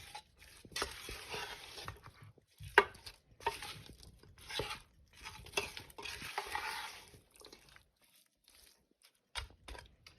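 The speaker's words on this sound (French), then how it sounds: "je mélange bien ma viande avec les oignons" Meat, onions and spices are stirred in a pot with olive oil while cooking a veal tagine, giving bursts of scraping and rustling with a sharp clink of utensil on metal and brief pauses between strokes.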